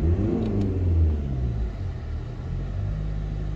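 A car engine revs and rumbles as the gas pedal is pressed during a diesel particulate filter burn, a loud low drone swelling early then holding a steady growl, close up with no talking.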